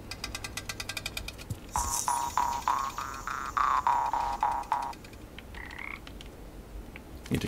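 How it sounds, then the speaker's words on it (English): In the video game PaPo & Yo, a frog croaks in a quick rhythmic series of throaty pulses, then falls quiet before a brief higher chirp, with game ambience underneath and no talking. "I think each one of them is releasing a frog or something like that."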